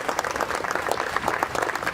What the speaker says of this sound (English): I'd just like to give you all a round of applause for all that you do